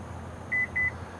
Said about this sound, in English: you hold the button down and listen for the beeps